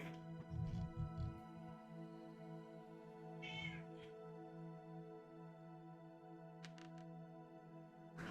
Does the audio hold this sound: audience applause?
no